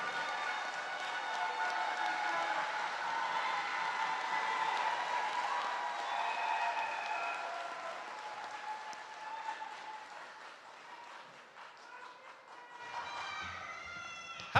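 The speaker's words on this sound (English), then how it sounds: "Let's now congratulate all the graduates with our cheers and applause." Graduates and guests at a commencement ceremony cheer and applaud in a sustained wash of clapping and whoops that swells, dips slightly, then rises again near the end.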